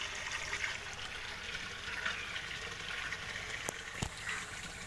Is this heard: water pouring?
yes